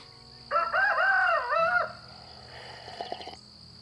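A free-range rooster lets out one loud, close crow lasting over a second, followed by softer scattered clucking from the chickens against a quiet outdoor background.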